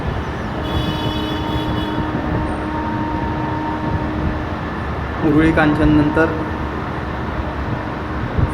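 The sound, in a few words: Pune-Sai Nagar Shirdi Express train running at 110 km/h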